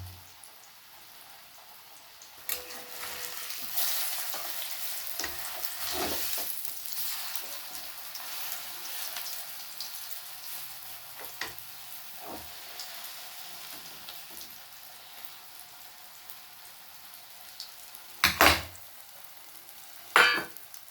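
Steady hiss and crackle of raw jackfruit kebabs frying in hot oil, continuous and fairly close, with a few sharp clatters and bumps along the way.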